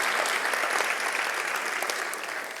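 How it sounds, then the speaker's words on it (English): Audience applause following a speech at a Bharatanatyam arangetram, steady dense clapping throughout that tapers slightly at the end. "Everyone give him a round of applause."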